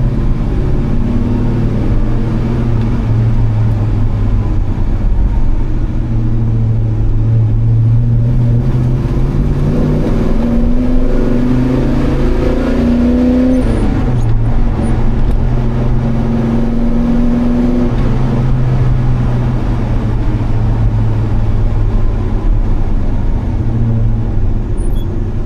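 A manual car engine labors in a tall gear, its low drone climbing in pitch, dropping back and rising again under steady road and wind noise, with no talking.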